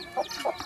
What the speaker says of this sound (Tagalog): Kain kayo, kain. Kain kayo ah. Ang daming malaga manok ah.